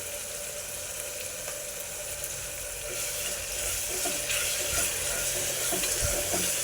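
Ginger garlic paste fries in a pan of mutton curry, a steady broadband sizzle that swells slightly louder halfway through, with faint stirring scrapes and no voices.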